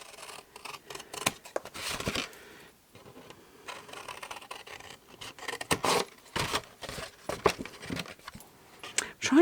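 Scissors cut through card in short bursts of snipping and rasping, with brief pauses between cuts, close and moderately loud; no one speaks.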